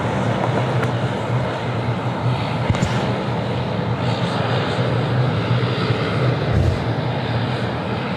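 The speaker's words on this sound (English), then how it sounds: "Canada 33 777-200 LR. Just flying overhead the field at the moment." A Boeing 777-200LR passes over an airfield at about 8,000 feet, giving a steady broad roar of jet engines that holds evenly throughout, distant but strong, with no talk.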